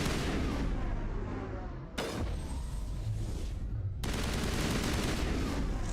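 Gunfire during a Mass Effect firefight, a dense continuous barrage of shots and booms with abrupt cuts near the two- and four-second marks, loud and steady throughout.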